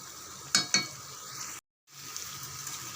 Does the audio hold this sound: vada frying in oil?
yes